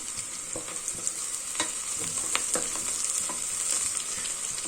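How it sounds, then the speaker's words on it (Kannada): Onions frying in groundnut oil on high flame, a steady bright sizzle with crackling pops and occasional stirring scrapes, close and continuous without talking. "ಐ ಫ್ಲೇಮಲ್ಲೇ ಈರುಳ್ಳಿಯನ್ನು ಫ್ರೈ ಮಾಡ್ಕೊಳ್ಳಿ"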